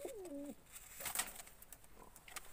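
Pigeons kept in a loft coo softly, with one short warbling coo at the start followed by scattered faint bird calls and rustling in a quiet indoor space.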